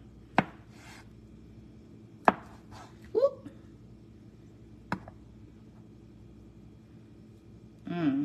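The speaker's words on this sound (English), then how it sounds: "Let me chop up this egg" A knife chops a boiled egg for a grilled chicken salad, giving a few sharp, separate knocks on a board spaced seconds apart, with light handling noises between them and a voice-like sound near the end.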